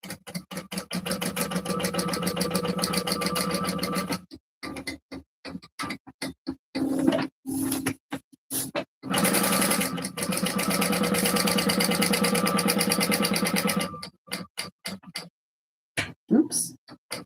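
A sewing machine stitches around the edges of a shoulder bag, running in fast, steady mechanical bursts of several seconds each, with short stops and quiet pauses in between.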